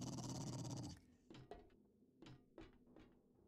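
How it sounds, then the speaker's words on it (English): A dog growls in the video game 7 Days to Die: a loud rough burst, then several shorter snarls and clacks that come and go, with no talking. "Right, there's a dog out here."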